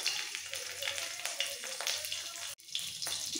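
Grated ginger and slit green chillies stirred in hot melted ghee with a bay leaf, a bright continuous sizzle with brief scraping strokes and a short break near the end.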